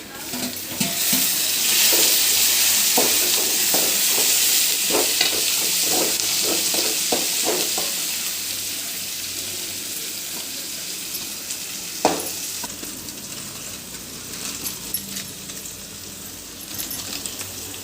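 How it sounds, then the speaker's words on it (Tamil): Onions and tomatoes sautéing in a pan for chicken rice, a steady close sizzle with repeated stirring scrapes and a sharp utensil clink near the middle, fading slightly later. "வெங்காயம் நல்லா வதக்கிக்கலாம் இப்போ நம்ம தக்காளி சேர்த்துக்கலாம்"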